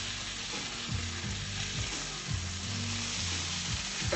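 Chicken frying in a pan, a steady close sizzle with light scraping and stirring, no talk and a low hum of kitchen noise under it.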